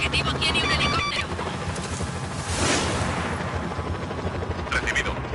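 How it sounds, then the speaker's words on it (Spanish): Helicopter rotor drone mixed with bursts of gunfire and explosions in the video game Just Cause 4 on PS4, loud and dense throughout, with in-game voices talking over it. "Aviso, el objetivo tiene un helicóptero."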